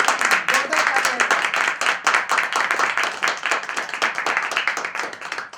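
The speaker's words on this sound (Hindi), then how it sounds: "जोरदार तालियां" Lively hand clapping from a gathered audience welcoming a guest at a self-employment scheme meeting, with sharp individual claps close to the microphone in a fast, uneven rhythm that holds steady the whole time.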